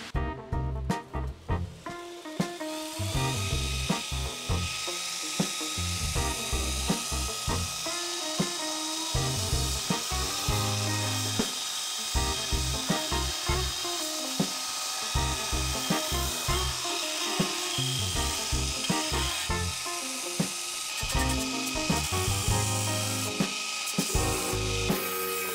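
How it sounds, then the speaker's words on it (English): A motorized polishing wheel whirs continuously while brass is pressed and rubbed against it, with a harsh grinding, scraping texture throughout. "Gonna hit it on the polisher."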